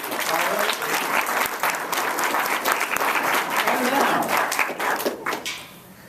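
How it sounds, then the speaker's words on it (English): An audience at a mind-reading stage show gives a full, dense round of applause, loud and sustained for about five seconds before tapering off near the end. "Please, a round of applause."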